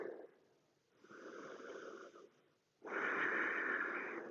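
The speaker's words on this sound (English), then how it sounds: "take a few deep breaths here" Deep, slow breaths during a yoga child's pose: a soft inhale, then a longer airy exhale, then a stronger, louder breath, close and alone with no talking.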